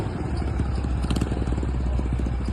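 A friend's motorcycle, stuck on a hill road, with its engine running steadily up close and a rough low rumble plus light mechanical clatter throughout.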